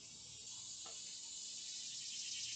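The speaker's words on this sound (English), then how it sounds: "you can definitely hear the cicadas in the background" A continuous high-pitched insect drone of cicadas fills the background, steady and fairly faint, with no one talking.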